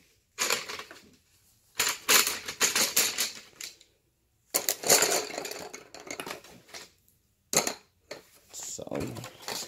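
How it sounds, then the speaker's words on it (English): Colored pencils are shaken and jumbled inside their box in several separate bursts of dense wooden clattering and rattling, with short silent pauses between them. "We're going to randomly mix them up in the box."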